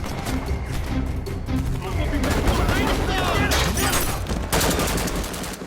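Gunfire from a gangster film shootout, dense bursts of shots crackling over a loud, busy action soundtrack for the whole stretch, with voices mixed in.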